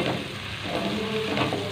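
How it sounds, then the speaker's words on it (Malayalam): Onions sauté with salt in a pan for a Kerala beef curry, making a close, steady sizzle with soft stirring scrapes and no talking. "സവാള നന്നായിട്ട് വഴറ്റി എടുക്കാം"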